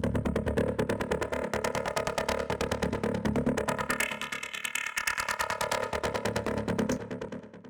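A buzzy, pulsing acid synthesizer preset plays rapid repeating arpeggio notes, its resonant bandpass-filtered tone opening and closing as it cycles, loud and steady.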